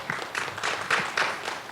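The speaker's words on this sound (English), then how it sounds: "Let's give our panel a round of applause." A short burst of audience applause for a panel at a committee hearing on infectious diseases, a dense patter of clapping hands from a small crowd.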